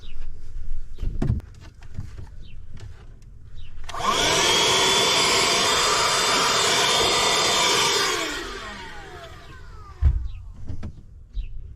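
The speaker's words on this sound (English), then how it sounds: "I have a 12-volt vacuum too, so I'm going to use that" A 12-volt vacuum cleaner used while installing a sink in a camper van runs in a loud steady whine for about four seconds, bracketed by quieter handling knocks and clatter.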